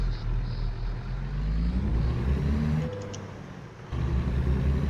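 In American Truck Simulator, a 400-horsepower Cummins engine in a 579 truck rumbles low, then rises in pitch as it pulls away, with a brief dip and a steady drone after.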